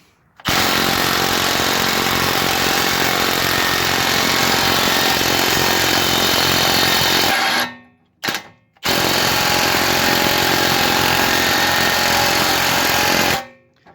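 A Masterforce 20V 1/2-inch drive impact wrench driving a threaded rod, a loud continuous hammering rattle held for several seconds, a brief pause with a short burst, then another long sustained run.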